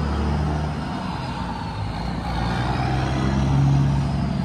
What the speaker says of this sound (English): This truck sounds good.